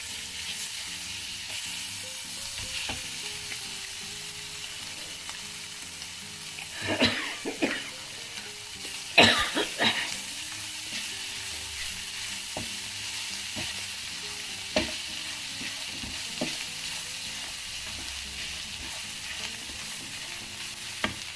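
Garlic and ginger fry with spice powder in a pan for seer fish in soy sauce, giving a continuous sizzle with occasional spoon scrapes and a louder cluster of stirring clatter midway.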